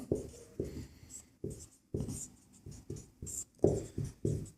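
Pen strokes scratch across paper while a Class 10 probability solution is written out, coming as short, close, irregular bursts with brief pauses between words.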